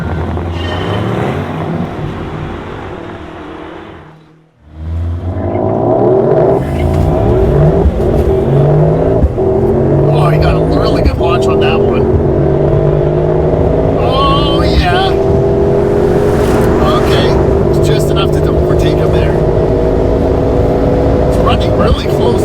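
A RENNtech-tuned Mercedes-AMG GT55 and an AMG GT63 launching side by side in a drag race, engines roaring loudly and climbing through the revs after a brief drop, with talking over the engine noise.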